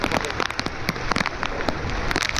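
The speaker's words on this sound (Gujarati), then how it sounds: "અવિરત વરસાદ અત્યારે પડી રહ્યો છે" Heavy continuous monsoon rain pours on surfaces in Bhimasar village, Kutch, Gujarat, a dense close hiss with sharp drips and splatters throughout.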